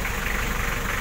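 A portable air compressor's engine runs steadily at idle, a continuous low rumble with faint knocking vibration, close and alone with no talking.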